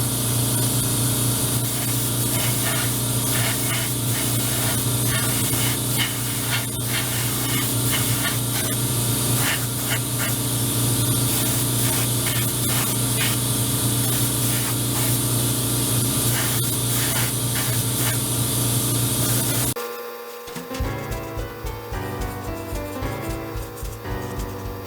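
An airbrush sprays paint onto HO scale model railroad cabooses in a steady, loud, continuous hiss with no talking, cutting off near the end and giving way to a softer, pulsing compressor-like sound.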